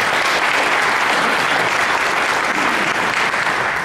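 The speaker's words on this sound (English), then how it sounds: "I think everybody up here on the stage would certainly like to applaud him." Audience applause at a 2014 Republican primary candidate forum, a dense, loud and sustained roar of clapping from a full room that holds steady for several seconds.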